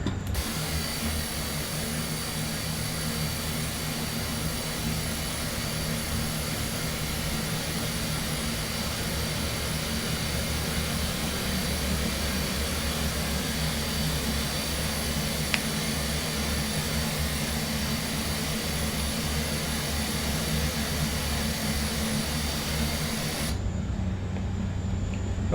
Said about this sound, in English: Okay, ground, we've got a good start on 2, starting engine number 3.